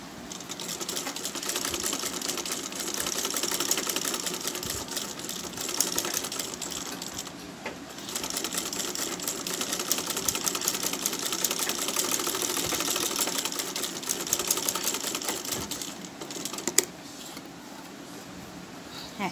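A sewing machine stitches a frill onto a small girl's dress in a steady, rapid mechanical chatter that runs almost without a break, pausing briefly once or twice, close and fairly quiet with no voices over it.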